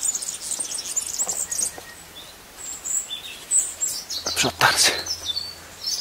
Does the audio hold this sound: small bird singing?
yes